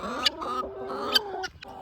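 Backyard hens, no roosters, being let out of their coop on a small farm: a few soft clucks and short squawking calls close by, with brief scuffling between them.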